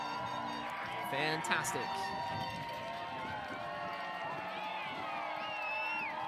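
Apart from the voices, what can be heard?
crowd of fans applauding, cheering and clapping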